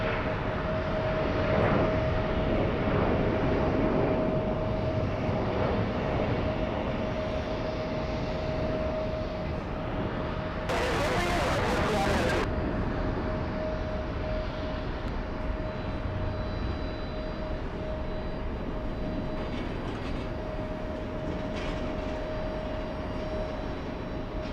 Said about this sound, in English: We have the 757 racing down the runway